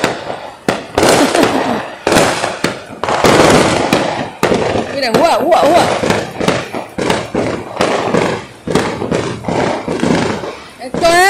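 Firecrackers and fireworks bang repeatedly at a birthday celebration, sharp blasts scattered across the scene amid crowd noise, with someone talking excitedly over them throughout.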